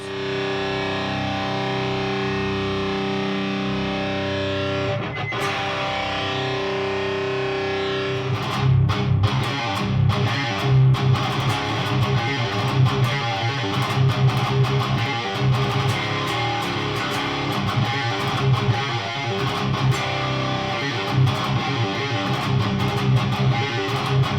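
An electric guitar plays through a Park's Custom Pedals Ninurta overdrive/distortion pedal in tube screamer mode, gain off, master volume cranked, starting with sustained chords and then moving into busier, heavily distorted strummed riffs.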